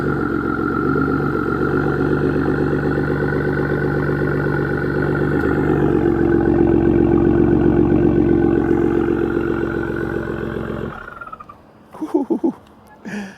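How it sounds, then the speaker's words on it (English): Ford F-150 EcoBoost truck with an AWE exhaust system idling with a deep, steady rumble, loud and close for about eleven seconds before it cuts off, followed by brief voices and knocks. "I do have a AWE 0FG exhaust system on my truck, guys, and this thing sounds really, really good."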